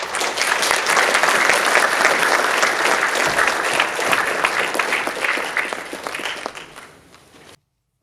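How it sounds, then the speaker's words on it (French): A conference audience applauds a speaker invited to the podium, with dense sustained clapping that slowly thins out and stops abruptly after about seven seconds. "Merci de l'applaudir."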